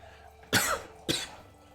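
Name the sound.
coughing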